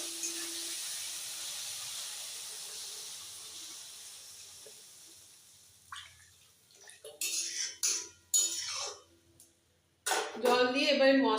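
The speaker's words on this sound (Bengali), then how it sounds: "এবার আমি এটা জল দিয়ে দেবো" Water is poured into spice masala frying in oil in a pan for a green-banana kofta curry: a loud, steady sizzling hiss that fades, then bursts of splashing and steam with a voice talking over it.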